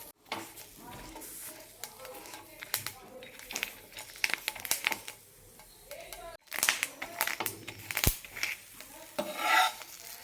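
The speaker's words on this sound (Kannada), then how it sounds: "ಈ ಥರ ಉಲ್ಟಾ ಸೌಟಿಂದ ನಾವು ಈ ಥರ ಒತ್ತಬೇಕು, ಬೇಗ ಇದು ಆಗುತ್ತೆ" Thick green chillies pressed with the back of a ladle and roasted on a tawa, close crackling sizzle with repeated scraping and pressing strokes, a brief dropout partway, and faint talk at times.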